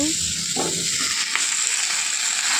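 Malabar spinach hits a hot frying pan with turmeric and salt. There is a short clatter, then a steady, close sizzle that lasts a couple of seconds.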